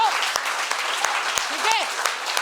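Students in a school assembly clap loudly to welcome their principal, a dense sustained applause punctuated by sharp individual claps, with a brief voice cutting through.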